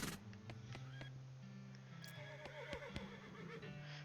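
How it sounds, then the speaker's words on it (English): A horse in the video game West of Loathing neighs with a drawn-out whinny over game music and soft clip-clop hoofbeats, fairly close and clear. "It's your new horse, Mystery."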